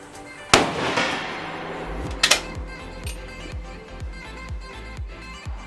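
A K31 Swiss carbine fired at a range with ordinary cartridges: two sharp, loud reports, each with a short ringing tail, and quieter knocks and background noise between them.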